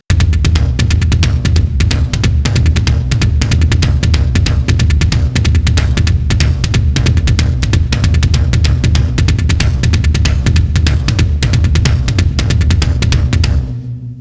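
A drum kit plays a repeated exercise section from a song intro: a dense, steady stream of fast kick and cymbal hits, loud and continuous for about fourteen seconds before stopping abruptly, with no talking.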